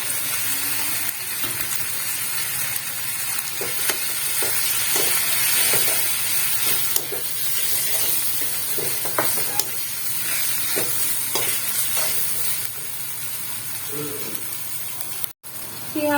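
Ginger-garlic paste frying in a pan for chicken biryani, a continuous hiss and sizzle with scattered stirring clicks and scrapes over a long stretch, a brief voice now and then.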